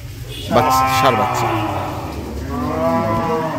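A six-tooth dairy cow of a local breed at a rural homestead lets out a loud, drawn-out moo, followed by a second lower call, while people talk nearby.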